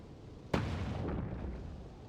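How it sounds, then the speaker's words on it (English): A single boom from a link cannon firing in a video game, a sharp loud blast followed by a rumbling decay that trails off over a second or two. "That is a cannon. That is a link cannon."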